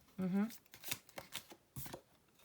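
Tea leaf cards are shuffled with a quick riffle, followed by soft card handling and drawing, while someone speaks over them at close range.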